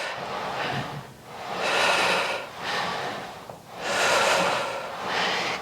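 Forceful exhaled breaths during an intermediate Pilates reformer workout, several broad airy whooshes in a steady rhythm, close and fairly loud with no talking.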